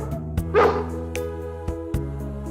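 A single short dog bark or yip rings out once over steady background music, with quiet sound before and after.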